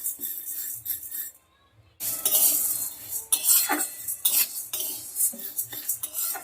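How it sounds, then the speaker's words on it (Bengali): Sago pearls frying in a pan while being stirred, giving repeated clinks and scrapes of a utensil against the metal with a light sizzle, close and fairly loud, a brief quiet pause early on, no talking. "সাবুদানাটা কিন্তু ভালো করে ভেজে নিতে হবে একদম লাল লাল করব না"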